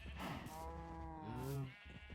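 Cows in Minecraft version 1.18 moo near a leather farm, one drawn-out, low, wavering call followed by a shorter one, fairly close and clear.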